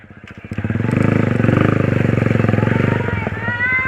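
A motorcycle engine revs up close by, a loud, steady pulsing throb that builds after a brief start, holds, then eases off, with a person's voice faintly heard near the end.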